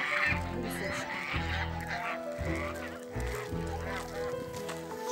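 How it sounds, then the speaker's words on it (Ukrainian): Geese honk repeatedly in a loud, close series of harsh nasal calls with short gaps, a flock running along a long way home, with some faint background noise and no talk. "Бачиш, які гусочки побігли?"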